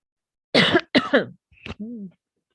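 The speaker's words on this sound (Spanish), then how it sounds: "estoy con tos." A person with a cough lets out two sharp, loud coughs close up, followed by a smaller hack and a brief throat-clearing groan, with silence in between.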